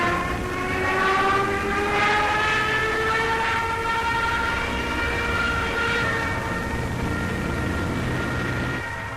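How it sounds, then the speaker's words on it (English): A Junkers 87 dive bomber's screaming dive gives a loud, sustained, wailing siren-like howl whose tones slowly slide, holding steady for several seconds without any speech. "screams of a Junkers 87 dive bomber delivering its munitions to a target on the ground"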